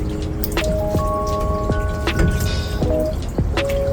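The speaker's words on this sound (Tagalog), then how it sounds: "Maghuhugas naman tayo ng paa." Water drips and splashes as someone washes their feet to remove mud and dirt, with close, irregular drops and small splashes over a steady background murmur.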